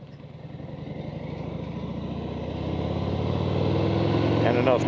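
A Harley-Davidson Softail Fat Bob motorcycle engine under way, a steady deep throbbing rumble that builds gradually louder as the bike accelerates, close and continuous, with wind noise over it.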